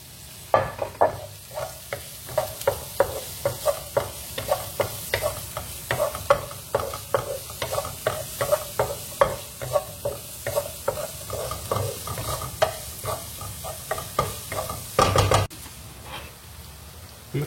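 Shallots frying in a pan without salt, stirred with repeated scraping strokes over a steady sizzle, the utensil clacking in a regular rhythm close by.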